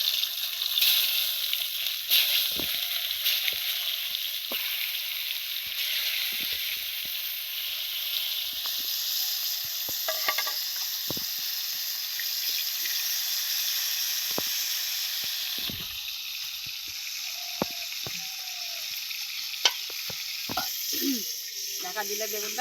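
Eggplant slices fry in hot oil in a pan, giving a loud, continuous sizzling hiss with occasional pops and crackles throughout.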